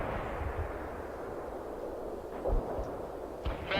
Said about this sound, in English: Heavy artillery barrage inbound.